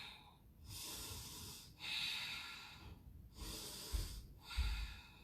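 Deep, forceful breaths during a yoga twist with the feet lifted, four long audible exhale-inhale cycles separated by brief pauses, close and steady, with no talking.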